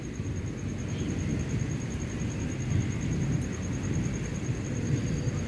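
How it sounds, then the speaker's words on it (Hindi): Steady, fairly loud rain pours outdoors with a constant low rumble that may be distant thunder, continuous and even throughout with no talking. "ऊपर से बारिश हो रही है"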